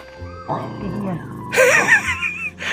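A dog barks and yelps close by, a few sharp bursts with whiny tones, mixed with other background sounds.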